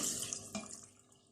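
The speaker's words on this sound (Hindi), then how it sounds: "इसको हम गलाने के लिए ऐसा करेंगे कि इसमें 2 गिलास पानी डाल देंगे।" Two glasses of water poured into a pot of raw chicken for a simple chicken korma, heard as a brief soft splash and trickle of liquid at close range, with no talk.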